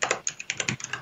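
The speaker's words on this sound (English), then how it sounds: "I was about to say how well I was typing today" Rapid, uneven keystrokes on a computer keyboard, close and crisp, about a dozen clicks in quick succession with no voices.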